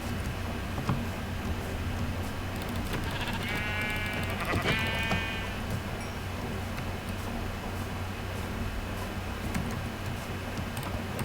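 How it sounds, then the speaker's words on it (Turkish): A sheep bleats in the video game Minecraft, a short clear cry partway through against faint steady background noise, with no talk. "Burada bir koyun keselim."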